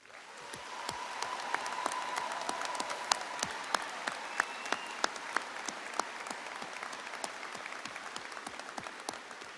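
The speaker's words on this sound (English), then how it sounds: "please join me in a round of applause for these students" Steady applause from a commencement audience at a university's spring afternoon ceremony, dense and sustained with sharp individual claps standing out, fairly distant and moderately loud throughout, with no talk over it.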